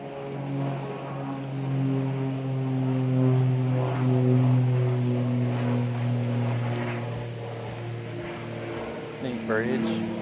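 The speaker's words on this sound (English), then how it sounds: "there's an airplane flying over." A fixed-wing airplane passing overhead above a nature-center hiking trail in Gainesville, Georgia, heard as a steady, droning engine hum that swells gently and fades, fairly distant, with footsteps and slight outdoor noise.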